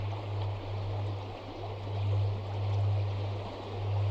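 Soft, continuous flowing water hisses evenly beneath a low, slowly pulsing hum, with no distinct drips standing out and no voices.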